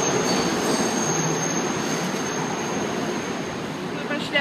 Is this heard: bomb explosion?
no